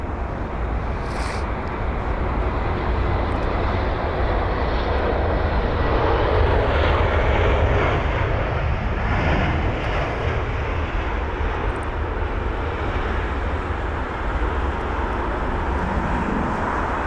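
An Air Serbia Airbus A319 or A320 arrives at London Heathrow from Belgrade, a loud, sustained engine rush and rumble that rises slightly midway and stays dense and steady throughout, with no talking.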